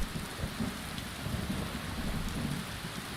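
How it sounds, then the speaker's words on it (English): Rain in a video game, heard as a steady wash of downpour with low rumbling underneath, even and unbroken throughout, with no voices. "It's been raining ever since."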